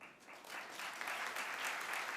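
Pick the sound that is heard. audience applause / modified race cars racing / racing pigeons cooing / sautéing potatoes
audience applause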